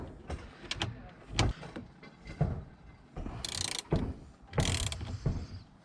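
A powered ratchet undoes a nut on a car in short bursts of whirring and clicking, with handling knocks and a couple of louder hissing spins, close by and without talk.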